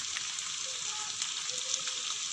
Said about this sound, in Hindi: अब इसको अच्छी तरह भूनने के बाद इसमें डालते हैं टमाटर